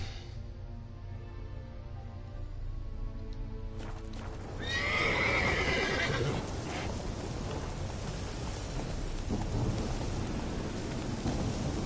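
Roach, the horse in the video game Witcher 3, gallops with quick hoofbeats, then a storm of rain and rumbling thunder swells in and drowns out most of the hooves.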